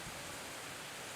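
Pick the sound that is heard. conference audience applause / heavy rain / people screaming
heavy rain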